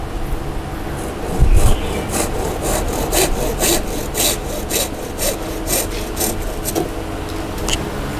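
A hand saw cuts through a Nam Dien bonsai branch during top-trunk correction work, a steady rhythmic back-and-forth rasp of wood close up with a brief louder knock near the start.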